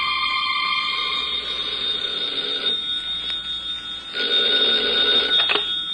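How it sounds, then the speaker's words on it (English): An old-style telephone bell rings in bursts for a radio drama scene set in a Paris hotel suite, the shrill metallic trill coming in two clear rings with a pause between, loud and close with no talk. "when a telephone rang in a suite at the Hotel Vendôme in Paris"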